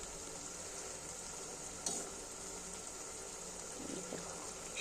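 Oil sizzling steadily as something fries to a golden colour in a pan, a soft continuous hiss with a brief scrape of stirring near the middle, no voices.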